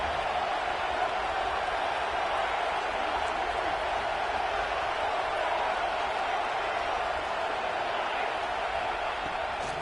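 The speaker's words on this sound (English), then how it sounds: "The Buckeye crowd alive on third down." A stadium crowd roars in a steady, broad wash throughout a college football video game as Ohio State's home fans come alive on third down, loud and unbroken with no clear voices standing out.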